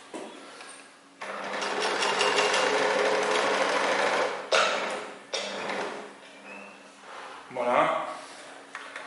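Sewing machine stitching a first seam on a handmade fabric character: a steady, loud mechanical whirr with fine rapid ticking, running continuously with brief pauses and changes in speed, with speech heard over it.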